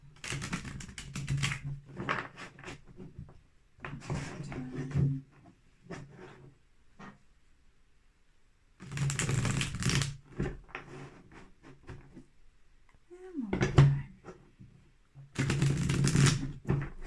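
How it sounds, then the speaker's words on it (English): Tarot cards being shuffled by hand in a few quiet, separated bursts of riffling and shuffling, with brief pauses between them and no talk. "Couple good shuffles."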